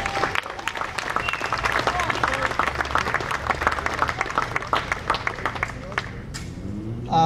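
A crowd at an outdoor protest in Brisbane claps steadily for several seconds, dense and fairly loud, with some murmuring in the crowd, before the applause thins out and a voice begins at the end.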